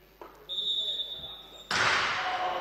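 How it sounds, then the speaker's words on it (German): A handball in a youth regional league match striking the crossbar on a seven-metre throw, a single sharp bang followed by a sudden surge of crowd noise in a hall, with a whistle tone and commentary heard. "Oh, und da knallt das. Den Ball an die Latte."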